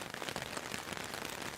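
Steady rain pattering on surfaces during a walk outdoors, a dense, close hiss of drops without a break.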